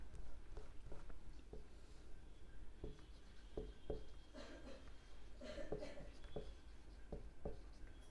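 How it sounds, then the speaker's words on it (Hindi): A teacher writes on a classroom board during a maths lesson on angles, making quiet, short scratchy strokes in irregular bursts. "चलो यहाँ पे लिख देती हूँ"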